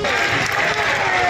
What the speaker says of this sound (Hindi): विक्रम लैंडर के चांद पर उतरते ही बजने लगी तालियां